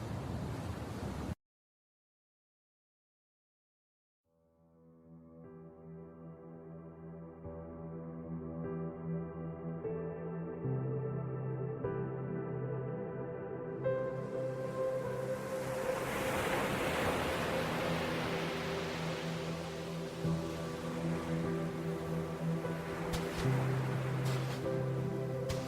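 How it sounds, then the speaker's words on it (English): Ocean surf rolls onto a soft white sandy beach, building from a brief silence into a steady, full wash of breaking waves that grows louder and stays continuous to the end. "I walked along the soft white sand towards the rolling surf."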